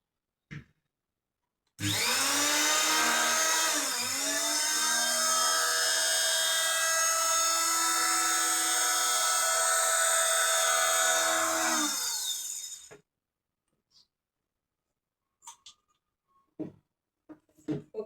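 A sewing machine stitches white school uniform pants in a tailoring setting, running as one continuous, loud, high motor whine for about eleven seconds with a brief early dip in speed. It stops abruptly, followed by quiet scattered clicks and handling noises.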